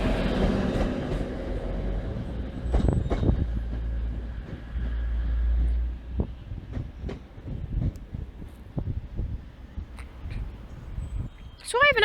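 A Class 185 diesel train pulls out of a platform at Manchester Piccadilly, a low engine rumble with rhythmic wheel clicks and clacks over the pointwork, under station ambience and someone talking.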